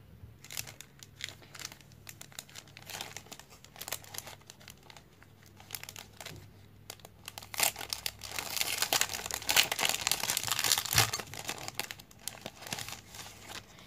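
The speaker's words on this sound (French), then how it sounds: "Et elle m'a fait une petite euh, enveloppe là apparemment. Donc on va ouvrir ça." Paper crinkles and tears as an envelope is opened by hand, with close, scratchy rustling that swells into louder crumpling in the second half.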